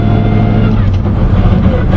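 A 1970 Chevy Chevelle SS with a numbers-matching 396 and Muncie 4-speed rumbles loud and close with a deep steady exhaust drone, and a voice is faintly present.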